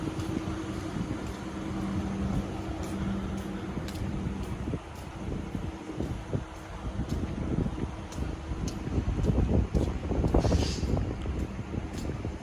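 Steady, soft rush of wind blowing on a hot sunny morning, with a low rumble that swells into a stronger gust near the end.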